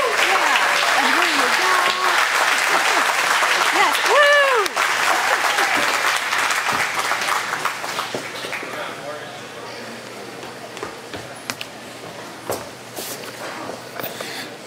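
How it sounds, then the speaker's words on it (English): An audience at an environmental community event applauds in a full, sustained round that gradually thins to scattered claps, with voices and cheering mixed in. "Another round of applause."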